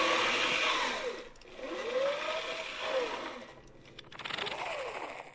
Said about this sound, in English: I found one of these old army generators on eBay.